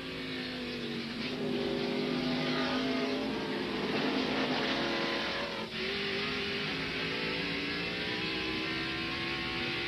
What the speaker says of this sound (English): Now he'll shift back gears, third gear, probably second gear there as he accelerates